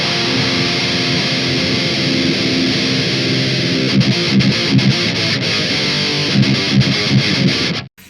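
Heavily distorted electric guitar through a Marshall Valvestate amplifier with the contour knob turned clockwise, giving a scooped-mid, 1990s tone; loud, dense chugging riffs with rhythmic palm-muted stops, played continuously and alone.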